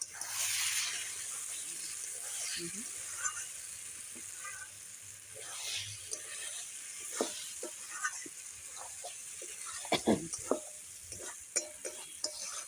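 Spice masala for chicken curry fries in oil in a pan with a soft continuous sizzle, while sharp scraping and stirring knocks come through irregularly, growing more frequent toward the end.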